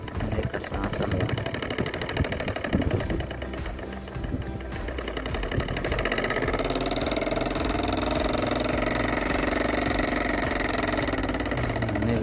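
Small engine of a miniature rice-field tractor built from PVC pipe, towing a cart, runs steadily and loudly with a buzzing, rattling idle throughout, getting fuller and more sustained in the second half.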